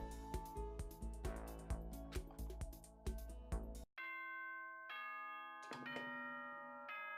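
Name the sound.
doorbell chime in video game Danganronpa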